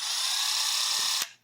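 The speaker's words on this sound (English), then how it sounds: "I actually recommend buying a pretty powerful impact driver that has modes on it" Milwaukee M12 FUEL impact driver running in one steady high whine for just over a second, close and loud, then stopping abruptly.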